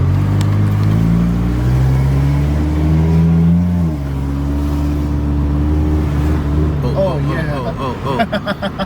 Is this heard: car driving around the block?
yes